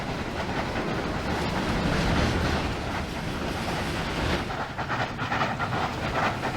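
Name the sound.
V Class locomotive pulling a train in Trainz 2019 video game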